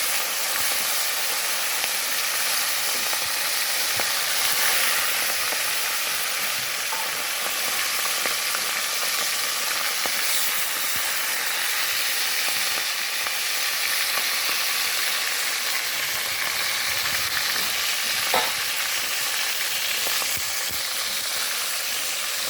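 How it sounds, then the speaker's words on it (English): Shrimp frying in a pot of hot oil after fish, for a Jamaican seafood stew: a steady, dense sizzle and hiss runs throughout with small pops and crackles, close and unbroken, with no voices. "I'm going to add my shrimp as well to the pot"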